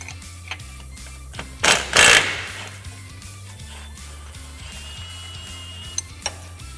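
Ratchet wrench work on a 15mm ball joint pinch bolt on a Can-Am Commander, with quick ratcheting clicks and a loud burst of metallic scraping as the bolt comes loose, then scattered light taps.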